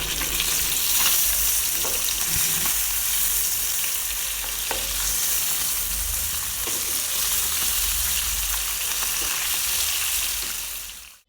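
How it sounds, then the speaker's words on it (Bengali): Koi fish frying in hot mustard oil, a steady loud sizzle and crackle that runs without a break, with no voices over it. "কই মাছগুলোকে ভালো মতো লালচে করে ভেজে একটা একটা করে"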